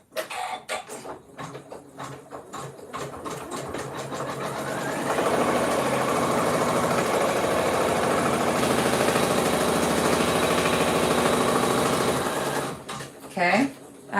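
An embroidery machine stitching down an in-the-hoop appliqué, a rapid mechanical whir that starts after brief talk, runs steadily and loud, then stops with talking again.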